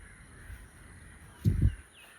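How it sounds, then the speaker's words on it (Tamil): Around a lake in the evening, a crow gives a quick pair of loud caws against a quiet, faintly hissing background. "அமைதியான இது, சுற்றிலும் பறவைகளின் ரீங்காரம்."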